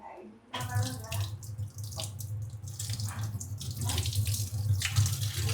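Dried fish is rubbed and rinsed under a running kitchen tap, a steady close stream of water splashing into a sink with small drips and handling sounds throughout, no talking.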